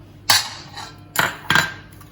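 A metal pizza plate being buttered and turned rattles with three sharp clanks, each ringing briefly before fading, close by with quiet gaps between.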